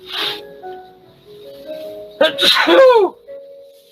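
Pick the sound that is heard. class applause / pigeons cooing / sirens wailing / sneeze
sneeze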